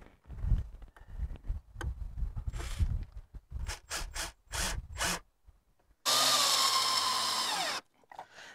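Power drill driving screws through luan paneling into the wooden framing of an RV rear wall during a rebuild: several short whirring bursts, then one long, loud, sustained drive that winds down, close by with no talk.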